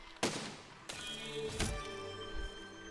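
Turret main gun firing in the video game Besieged, three loud booming shots about half a second to a second apart, each with a sharp crack and ringing mechanical tail.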